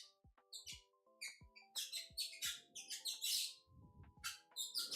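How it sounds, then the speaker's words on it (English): Squeaky rubber shoe soles rubbing against a chair give a run of sharp, bird-like chirps and squeals, close and fairly loud, repeating irregularly over about five seconds with no talking. "I can like do some silly squeaky sounds with my shoes"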